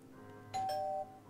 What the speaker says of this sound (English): Doorbell sound. Ding dong.